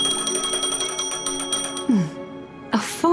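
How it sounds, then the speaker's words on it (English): A phone rings in the video game Honkai: Star Rail with a bright, bell-like electronic trill pulsing rapidly and steadily, followed by a couple of short chiming tones near the end, loud and close with no speech. "A phone."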